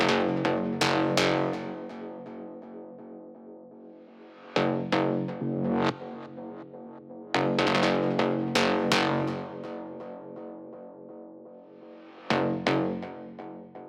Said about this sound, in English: On top of the bass, we have the bass shots, and those are really interesting, and they sound like this.